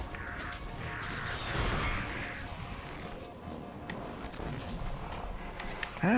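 Grenades explode in the Halo 4 video game, a dense, rumbling blast of booms and crashing debris that swells and fades, loud and continuous throughout.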